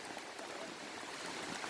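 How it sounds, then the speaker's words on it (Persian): Heavy rain pours at a campsite with tarps strung up, a dense, even hiss of drops falling on surfaces, steady and fairly quiet, with no voices. "بارون شدید گرفته."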